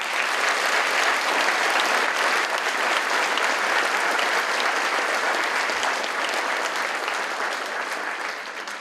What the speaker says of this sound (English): Please give another round of applause for this exceptional artist